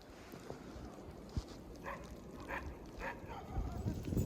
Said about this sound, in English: I love watching the dogs play. They always get so excited when it snows.